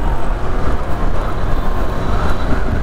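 A Yamaha R15 motorcycle accelerating hard, its engine a loud, continuous roar with dense low rumble and broadband noise held steady throughout, close and with no talking.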